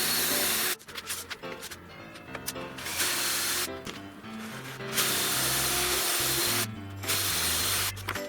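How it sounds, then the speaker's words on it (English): Bursts of a power drill whining as a bit drills holes guided by a hardwood block, starting and stopping several times with brief pauses between, close and loud. "then I use a block of hardwood to guide the drill bit"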